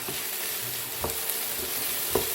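Rice and shrimp stir-fry in a pan with a steady sizzle, while a utensil taps and scrapes the pan a few times, close and clear.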